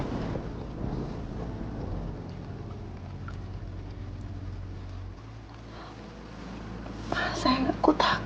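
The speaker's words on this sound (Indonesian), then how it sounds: "aku takut petir" Thunder rolls as a low, steady rumble through most of the scene, easing off after about five seconds, while voices speak softly over it.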